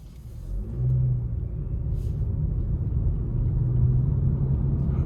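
Steady low rumble of a Nissan Sentra SL's 2-liter four-cylinder engine while driving, heard from inside the cabin as a continuous moderate drone with a slight rise in level after the first second.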